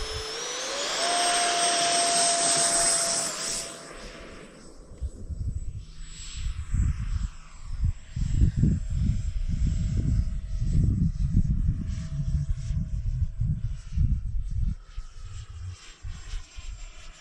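An F-16 jet in a flight simulator game, a steady engine roar with a high whine that fades after a few seconds into a lower rumbling drone with fluttering pulses.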